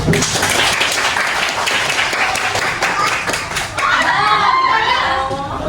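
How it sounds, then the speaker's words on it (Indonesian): A classroom full of students clapping steadily and loudly, with a few young voices calling out near the end. "Ya, tepuk tangan."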